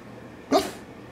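A single short dog bark, sharp and fairly close, stands out once against a quiet room background.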